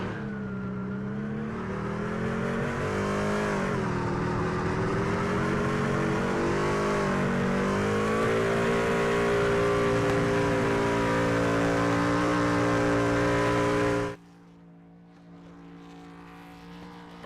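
NASCAR race cars at Daytona roar loud and continuous in a pack, engine pitch rising and falling in a sustained drone. The noise cuts sharply to a quieter, distant engine hum near the end.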